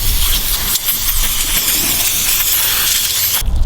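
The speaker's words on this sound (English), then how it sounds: "Let's spray it a little more." An aerosol can sprays onto a wheel bearing from a 1973 Chevy square body Dana 44 axle, a loud continuous hiss held for several seconds before it cuts off abruptly.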